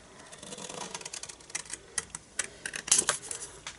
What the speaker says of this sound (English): Get my long scissors out. And I'm just going to cut round it freehand.